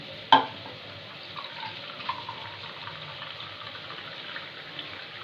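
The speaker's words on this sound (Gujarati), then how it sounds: "હવે નાખશું થોડું પાણી" A sharp splash as water hits a hot pan of tempering for rasiya rice, followed by a low steady sizzle and bubbling that fades into quiet simmering.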